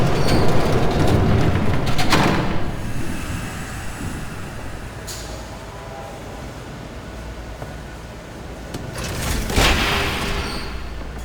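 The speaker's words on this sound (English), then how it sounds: "There's a train coming." Train rumbling past in the video game Telltale's Batman, a loud continuous roar and clatter that swells, eases to a steady rush, then surges again with metallic bursts, without talk.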